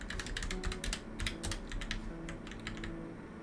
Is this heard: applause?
no